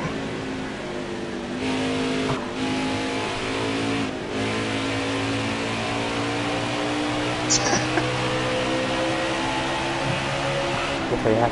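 A race car engine in an Iowa playoff race of a racing video game drones and revs steadily throughout, its pitch climbing and falling in long sweeps, with faint talk running underneath.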